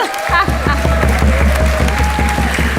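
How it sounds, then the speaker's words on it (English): Loud, dense applause from a large crowd at a conference opening ceremony, steady clapping filling the space with rhythmic low thumps underneath. "Let's give them another round of applause, please."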